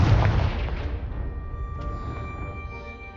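A Confringo blasting spell cast in Hogwarts Legacy at a pile blocking a passage, heard as a deep, rumbling boom at the start that fades into a long, ringing tail with a few faint tonal hums.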